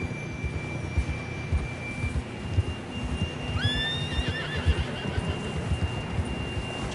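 A horse in the video game Red Dead Redemption 2 whinnies once, a rising then wavering neigh, over steady hoofbeats and a faint continuous tone.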